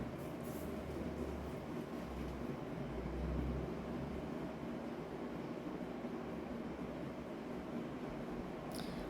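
A continuous low rumble of a small tourist train running at Veli Tourist Village, Thiruvananthapuram, steady and moderately distant, with a faint hiss and no voices.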